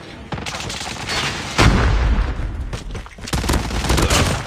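A Semtex grenade is thrown and explodes in Call of Duty Mobile, with heavy booming blasts and crackling gunfire-like bursts landing loud and close in two main surges.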